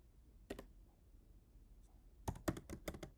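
Keys clack on a computer keyboard during work in a Linux terminal: a short double tap, a pause, then a fast cluster of sharp, close keystrokes.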